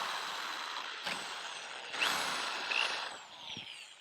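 A power drill with a 3/16-inch bit drills holes in the body of a Sprinter van, whirring in short bursts and rising in pitch as it bites, with a couple of brief pauses between runs; close and fairly loud.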